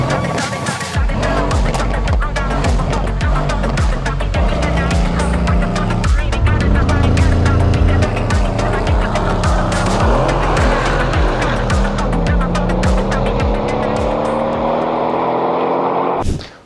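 BMW M3 F80 and Mercedes C63 W205 pushed hard on a race track, loud engines revving and shifting through gears with repeated tire squeal and skidding, sustained and close throughout.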